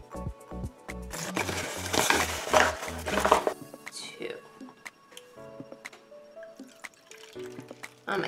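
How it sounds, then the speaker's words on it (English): Water poured and spilled while mixing paper mache, with a burst of splashing and filling at the start, then scattered drips, ticks and clinks of utensils in a quiet room. "Oh my god, water everywhere."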